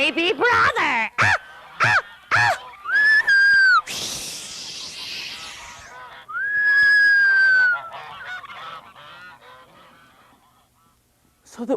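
A storyteller's voice imitates honking black geese with loud, nasal, rising honks, several in quick succession with spoken words in between, followed by a longer drawn-out honk and then quieter talk.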